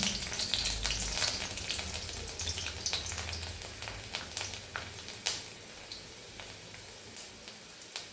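Chopped garlic cloves fry in hot oil for a Kathiyawadi gathiya curry, giving a steady, close crackling sizzle with bright spits and pops throughout and no talking.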